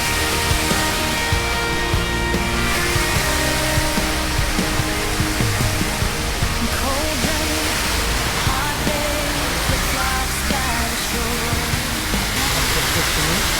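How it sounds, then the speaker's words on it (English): A waterfall fountain with coloured lights and a mermaid statue in a town square pours out a steady, loud rush of water that fills the whole clip, with faint crowd sounds mixed in. "There's a waterfall here with chain colours and a mermaid there."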